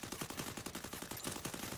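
Rapid bursts of gunfire from the Free Fire video game, a fast regular stutter of shots lasting under two seconds at low volume, with no talk over it.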